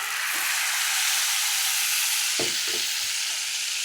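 Cooked moong dal goes into a hot pan for a fig Asoka halwa and fries with a dense, steady close sizzle, followed near the end by a few soft stirring scrapes and thuds.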